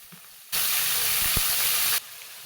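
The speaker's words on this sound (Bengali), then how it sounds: "আমার এখানে সব চিকেনগুলা দিয়ে দিলাম, দিয়ে একটু ভালোভাবে কষিয়ে নেব।" Chicken pieces dropped into hot oil with cardamom for coriander chicken bhuna set off a sudden loud, sustained hiss and sizzle that cuts in, holds steady for about a second and a half, then stops abruptly.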